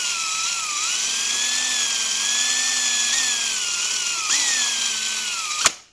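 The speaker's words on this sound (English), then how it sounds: "all of a sudden, this drill started getting weird" DeWalt cordless drill running continuously with a wavering, erratic whine that dips and jumps in pitch, loud and close, before cutting off abruptly near the end.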